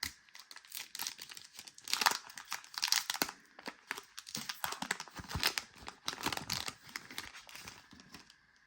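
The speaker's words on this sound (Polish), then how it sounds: "Otwieramy kolejne pięć paczek." Ekstraklasa trading card packs from a Sportzoo hobby box are ripped open up close, with bursts of crinkling foil wrapper and tearing interspersed with quieter pauses over several seconds.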